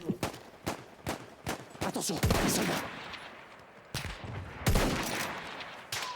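Battlefield 1 gunfire: a rapid string of sharp shots, some bursts close and loud, others overlapping into a heavier volley, with voices talking over parts of it.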